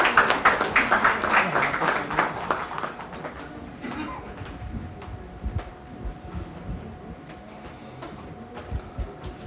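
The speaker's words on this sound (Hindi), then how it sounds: "जोरदार तालियों के साथ इनका स्वागत कीजिए।" Audience applause welcoming a guest onto the stage at a literature festival in New Delhi, a brief burst of clapping at the start that quickly thins and dies away into quieter room noise.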